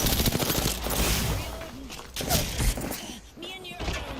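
Rapid automatic gunfire and impact thuds in the video game Apex Legends, bursts of shots coming hard and close, with a voice talking over the shooting.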